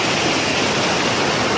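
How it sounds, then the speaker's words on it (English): Waterfall on the Satinga River, a steady broadband rush of falling water that holds even and fairly loud throughout the short stretch, with no voices over it. "I'm going to show the beautiful waterfall which we are going to shoot right now"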